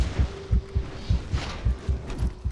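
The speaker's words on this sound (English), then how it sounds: "You'll hear a heartbeat when you're almost dead" A low-health heartbeat warning in the video game RIFT: a steady, soft double-thump pulse of about eight beats repeating evenly over a faint hum, with no voices.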